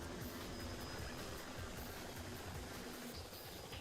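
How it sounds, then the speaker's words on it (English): A helicopter in the Devil May Cry 2 video game produces a dense, steady rotor and engine roar that fills the whole stretch evenly at a faint level. "Is this the helicopter? Helicopter."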